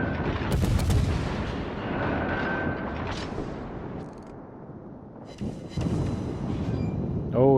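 Torpedo hits explode against a heavy cruiser in the naval game World of Warships, arriving as loud booming blasts with rumbling aftermath over constant battle noise and a brief alarm tone near the end.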